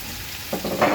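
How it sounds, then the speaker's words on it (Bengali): Onions hiss and sizzle in hot oil, a steady frying crackle that swells briefly louder as they are stirred. "এখন পেঁয়াজটা একটু ভাজা ভাজা করে নিচ্ছি"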